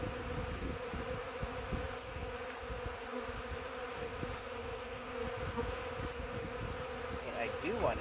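Honeybees buzz steadily and close by while a hive is opened for an early-March inspection: a dense, continuous drone of many wings, with no pauses.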